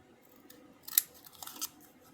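Scissors snip through patterned paper while mini tombstones are being cut out for a crafting project, with a couple of close, crisp cuts in an otherwise quiet room.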